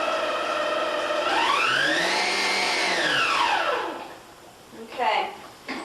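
An electric stand mixer whirs through cake batter with a loud motor whine that sweeps up in pitch and then falls away as it winds down. A short clatter follows near the end.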